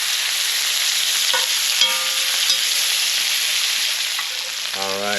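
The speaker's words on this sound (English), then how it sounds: "we just want to sear these steaks for about 2 minutes on each side" Steaks searing over an open fire give a steady, close, continuous sizzle and crackle of fat throughout, with a few brief tonal squeaks near the end and no talk.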